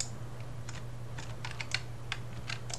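A few quick key taps on a computer keyboard, pressing Control C while copying values in Blender, sound as sparse, light clicks over a steady low electrical hum.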